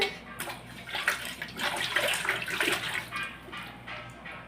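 Water sloshes and splashes continuously as a young child is bathed in a tub, with a steady wash of noise rising and falling in small surges; no voices come through clearly.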